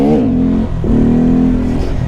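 A loud, close motorcycle engine revs during a wheelie and holds a droning pitch, dipping briefly then climbing again, with wind noise throughout.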